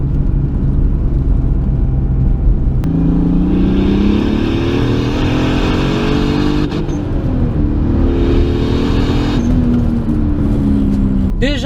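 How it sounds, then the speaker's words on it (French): Turbocharged BMW E46 328 with an external wastegate, heard close up as a loud, steady engine drone with rising and falling pitch sweeps as revs change, plus a sharp hiss near the start and brief fluttering chirps toward the end. "Puis le bruit de la Westgate externe c'est n'importe quoi."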